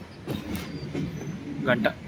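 A train between Gadag and Hosapete rumbles along nearby with rhythmic rail clatter, while a voice talks briefly over it.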